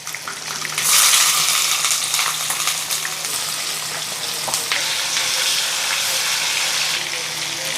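Mustard seeds, fenugreek and onion frying in oil for a stingray fish curry: a dense, continuous sizzle with crackling and stirring, close and fairly loud, with faint voices in the background.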